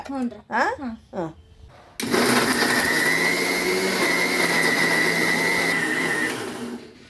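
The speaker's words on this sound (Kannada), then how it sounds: "ಇದನ್ನ ಇಷ್ಟು ಮಿಕ್ಸರ್ಗೆ ಹಾಕೋಬೇಕು" Mixer grinder blending masala for North Karnataka tomato rice, starting abruptly after brief talk and running as a loud, steady whirring roar for several seconds before cutting off.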